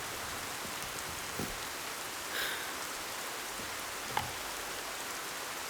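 Steady rain falls through a long night, a dense even hiss filling the whole stretch with a few faint knocks and drips standing out briefly.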